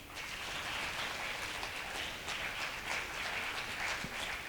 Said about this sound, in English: Let us show our appreciation in the form of a thunderous applause.